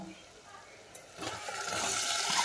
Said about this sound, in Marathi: याच्यामध्ये आपण आता शेवग्याची शेंग टाकून घेणार आहे आणि छान फ्राय करणार आहे